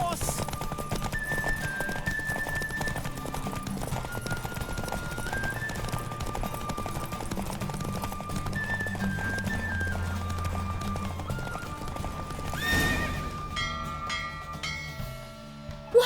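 Rapid, rhythmic hoofbeats of a horse galloping in a race in the video game The Witcher 3, running steadily under a backing music score, with a brief louder burst near the end.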